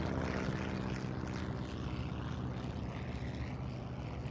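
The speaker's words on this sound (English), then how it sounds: "I'm waiting for the airplane to go by." A propeller airplane flies past in the SimCity video game, a continuous droning engine hum that holds steady at moderate volume with no voices.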